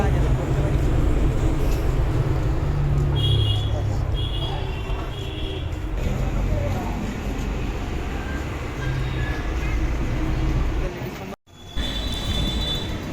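A Sealdah–Santipur local passenger train rumbles into Khardah station, a continuous low roar with rattling and a brief squeal, while people talk over the noise nearby.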